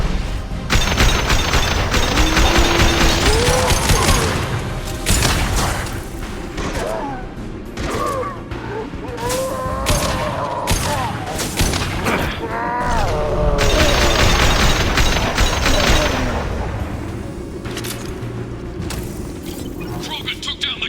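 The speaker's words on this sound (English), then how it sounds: "Shotgun." Shotgun blasts in the video game Mass Effect 2 boom out repeatedly amid a loud, dense battle of explosions and clattering, with in-game voices speaking throughout.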